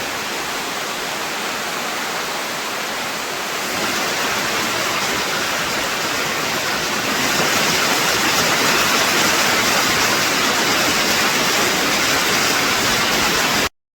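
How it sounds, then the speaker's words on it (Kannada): Heavy rain pours down steadily on a farm plantation at the start of an early monsoon, a dense, even broadband roar that swells slightly louder partway through, with no voices. "ಇಲ್ಲಿ ಈ ಕಡೆ ಜೋರಾದ ಮಳೆ ಅಂತೂ ಬರ್ತಾ ಇದೆ"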